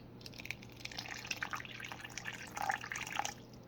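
Water trickles and splashes steadily into a tarantula's small water dish, with scattered drips and a gentle pouring sound growing slightly louder near the end.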